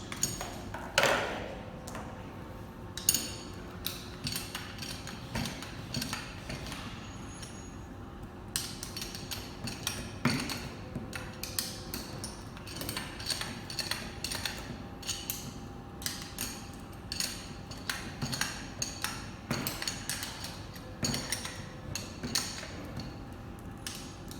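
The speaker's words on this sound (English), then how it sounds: "Once those are down, be sure to tighten the screws and nuts." Screws and nuts being tightened on a manual diaphragm valve during assembly: a steady run of small metallic ticks, clinks and taps from a tool on fasteners, close and fairly faint, with no talking.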